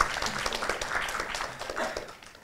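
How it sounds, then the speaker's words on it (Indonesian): Attendees at an Indonesian book discussion on vertebrobasilar stroke clap, a soft, scattered round of applause that swells and fades, with a few voices murmuring beneath it. "tepuk tangan boleh Bapak Ibu teman-teman."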